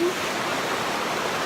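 Mother Falls in Baler pours in a steady, dense hiss of falling water, a continuous broadband rush with no pauses.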